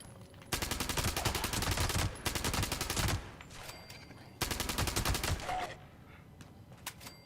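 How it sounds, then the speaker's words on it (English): Rapid bursts of Thompson submachine gun fire in Fallout 76 while fighting ghouls, loud and close: a long burst of about 1.5 seconds, a shorter one, a pause, then another burst of about 1.5 seconds. "I'm killing them with a Thompson"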